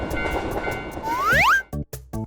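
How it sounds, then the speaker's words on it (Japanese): A cartoon train pulls in for an animated railway crossing scene, marked by a rising whistle-like sweep, then a few short clunky bursts with gaps of silence between them. "電車が来るよ。"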